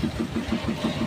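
A motorcycle engine, just back from a service, runs close by with a steady rhythmic chug just after a kick-start, low and even pulses repeating about six times a second.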